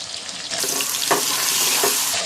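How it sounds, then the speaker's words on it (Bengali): Potato pieces frying in hot oil in a wok, seasoned with turmeric and salt: a steady close sizzle with occasional clinks of stirring, no voices. "তেল গরম হয়ে গেছে, আমি এবার আলু ভেজে নেবো।"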